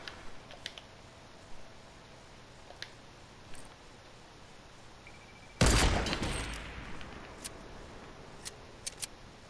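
A single loud sniper rifle shot in Fortnite cracks out mid-clip and rings down over a couple of seconds, set against quiet background with scattered faint clicks before and after.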